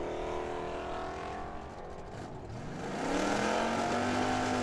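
A Corvette drag racing car launches and roars down the raceway strip, its engine rising in pitch as it accelerates, loud and continuous with crowd-level track ambience.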